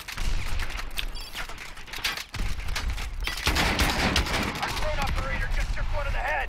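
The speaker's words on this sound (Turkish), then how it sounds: "Bomba atarla tarıyorum." Grenade launcher firing in the video game Call of Duty: Advanced Warfare, heard as a rapid volley of sharp shots and bursts, dense and loud, with a brief lull partway, while someone talks over the gunfire.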